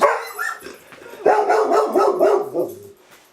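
Several dogs bark and yip excitedly as they get ready to go out for walks, a loud, close, overlapping run of barks with some whining, no talking.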